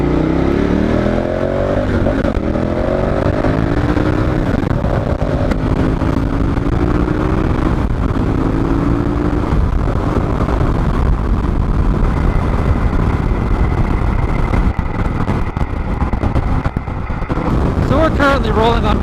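A motorcycle rolling on Dunlop TrailMax Mission tires along a wet freeway, a steady engine drone with shifting pitch under heavy wind rush against the microphone, continuous throughout.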